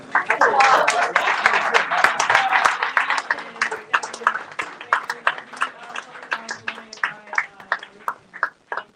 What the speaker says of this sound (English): We want to give a round of applause.